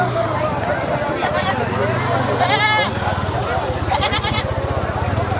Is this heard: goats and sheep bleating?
yes